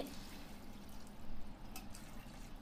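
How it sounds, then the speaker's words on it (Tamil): Water poured into a pot of chicken biryani, a soft, steady liquid splash and trickle that is faint and continuous with no voices. "இப்போ தண்ணி ஊற்றிடலாம்"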